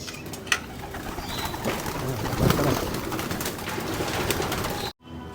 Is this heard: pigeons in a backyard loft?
yes